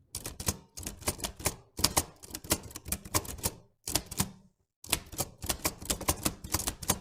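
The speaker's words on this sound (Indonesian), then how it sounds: "mengetik teks proklamasi" A typewriter clacks in rapid bursts of keystrokes, pausing briefly between runs, close and crisp with no voices.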